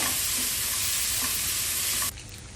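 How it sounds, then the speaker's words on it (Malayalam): Tomatoes sautéing in a pan over browned onions, a steady close sizzle with occasional stirring scrapes for about two seconds before the frying noise drops suddenly quieter. "തക്കാളി നല്ല സോഫ്റ്റ് ആൻഡ് മഷി ആവുന്ന വരെ സോട്ട് ചെയ്യുക"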